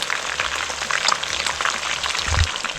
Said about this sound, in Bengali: এখন আমি আলুটাও ভেজে নেব।